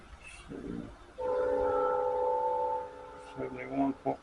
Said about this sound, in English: I got a train yard close to my house.